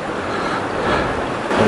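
Fast-flowing river water during a motorcycle river crossing, a dense, steady rushing wash that sounds close and fairly loud, with no talking.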